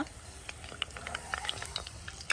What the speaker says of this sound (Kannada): ಮೀಡಿಯಂ ಫ್ಲೇಮಲ್ಲಿ ಇದನ್ನು ಫ್ರೈ ಮಾಡಿದ್ರೆ ಆಯಿತು